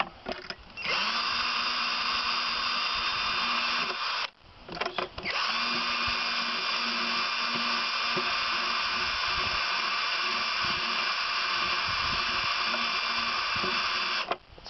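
An electric drill whines steadily while boring holes in plastic for an aquarium cave background, running for about three seconds, stopping briefly, then droning on continuously for nearly ten more seconds at close range.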